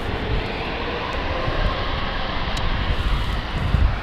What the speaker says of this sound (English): this is Ascend coming in with their 737, operating today for Thompson, or TUI I should say.